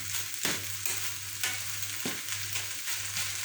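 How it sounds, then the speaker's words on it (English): Tomato being mashed and stirred in a pan with scotch bonnet and black pepper for ackee and saltfish, with a steady close sizzle of frying and a few sharp scrapes of the utensil against the pan, no talking. "I'm just mashing the tomato a bit there"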